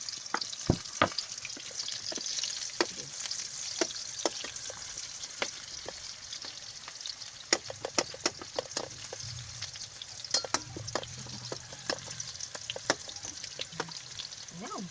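Onions sauté in a pan for chop suey: a soft, steady sizzle runs under frequent sharp spatula clicks and scrapes against the pan, close and irregular throughout.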